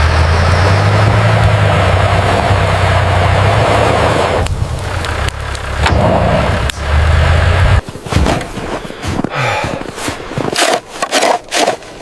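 A car drives along a road, a loud continuous rumble of engine and tyres with heavy wind buffeting, turning choppier with bumps and scrapes toward the end.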